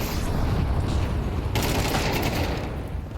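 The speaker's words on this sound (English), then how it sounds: "Artillery all over this bomb site" Gunfire and utility explosions fill a bomb site during a FURIA versus K27 esports match in the ESL Impact League finals. A dense, loud barrage of shots and booms blends into continuous noise, with no talking.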